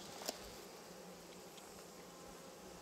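Honeybees at production hives, a soft continuous insect hum with a faint high whine, steady and fairly distant, with one brief tick near the start and no talk.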